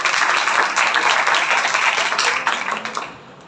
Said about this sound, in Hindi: इनके लिए जोरदार ताली बजाएं।